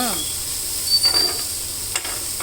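Oats roasting in a pan, a soft, steady hiss and faint stirring scrapes, quiet and close, with a few brief clinks along the way.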